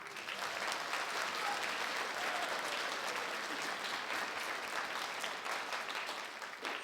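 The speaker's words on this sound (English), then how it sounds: "A round of applause for our performers." Sustained audience applause for student performers at a Fond du Lac High School symphonic winds and percussion concert: dense, steady clapping from a full crowd, loud and continuous throughout.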